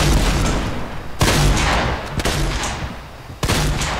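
Loud, close gunfire in the Fortnite battle royale game, heavy blasts landing in clusters with sharp new volleys at about one, two and three-and-a-half seconds, no voices over it.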